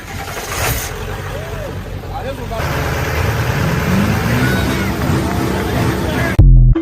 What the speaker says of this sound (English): we're gonna see the comparison on how the engines sound, how they run